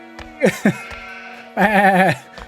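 Game sheep in Anno 1602 bleat loudly and close, a short pair of quick bleats followed by a longer wavering baa, with music tones underneath.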